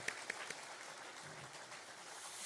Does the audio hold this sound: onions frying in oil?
no